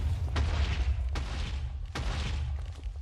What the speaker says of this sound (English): a long line of TNT explosions